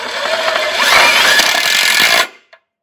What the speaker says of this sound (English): proceed to screw the channels to the post with the number 12 self-tapping screws that are in the kit, like so